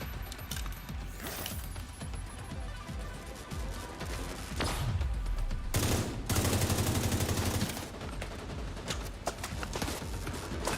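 Light machine gun fire in The Division 2, scattered shots and short bursts leading to a loud sustained rattling burst near the middle, with mechanical clicks and game effects around it.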